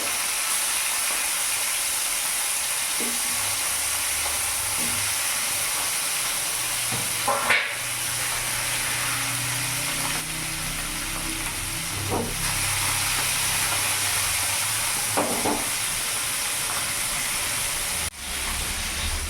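Fish, Bata in a mustard-poppy-seed recipe, sizzle and hiss in hot oil over a raised gas flame: a continuous close frying crackle with a few spoon stirs and scrapes along the way.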